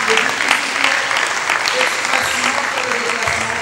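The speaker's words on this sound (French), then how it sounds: "on va vous applaudir aussi" Sustained applause from an audience filling a business forum hall, steady dense clapping throughout with a few voices faintly underneath.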